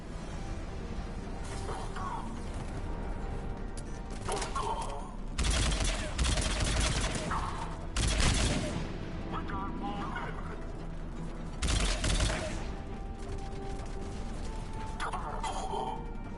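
Gunfire in the sci-fi shooter Mass Effect 3: bursts of rapid automatic weapon fire, several louder volleys over a continuous battle din with shattering and mechanical clatter, while voices talk over the fighting.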